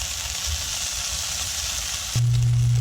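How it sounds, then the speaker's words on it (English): Burgers sear in a hot oiled pan with a steady broadband sizzle throughout, joined near the end by a sustained low tonal hum. "we're going to put the burgers into the pan. We're going to sear them on both sides"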